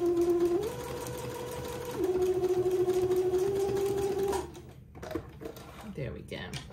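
Sewing machine stitches down elastic on a garment in quick, steady bursts of motor whir, pausing briefly between runs, then stops as handling and rustling noises follow.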